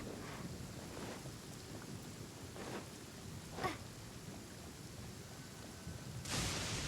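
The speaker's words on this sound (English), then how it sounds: "I hope that the thunderstorm doesn't affect it." Rain and rumbling thunder in the video game Genshin Impact, soft and steady, with a few low thunder rolls and a louder gust or downpour near the end.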